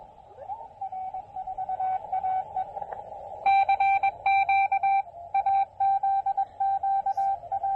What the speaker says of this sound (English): those are other ham radio operators, you know, on the bands, and so I do it all in Morse code